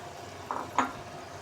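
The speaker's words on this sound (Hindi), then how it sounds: "अब इसके अंदर हम ये दाल शामिल कर रहे हैं" Moong dal being added to a pan of softened tomato masala: two brief soft splats or clinks in a quiet kitchen, the second slightly louder, over faint background noise.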